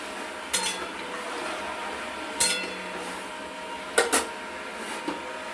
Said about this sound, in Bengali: নাড়াচাড়া করে দিয়ে আমরা একটু ঢাকনা দিয়ে ঢেকে দেবো ঝোলটা ফুটার জন্য